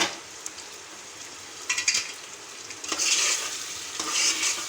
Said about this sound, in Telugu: ఇలా మనం ఒకసారి కలుపుకుందాం